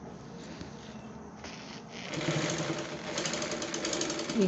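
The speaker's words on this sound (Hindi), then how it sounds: "अब यहाँ पर थोड़ी सी 1 इंच सिलाई लगा देंगे ताकि पल्ले जो है आगे पीछे ना हो" A sewing machine stitches a short one-inch seam joining petticoat panels, its motor buzzing quietly at first and then running faster and louder with a steady mechanical whir for the last few seconds.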